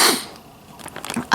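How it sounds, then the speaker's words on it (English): A person lets out a single sharp sneeze, loud and close, then makes a few soft breathy sounds as it fades. "I have to sneeze."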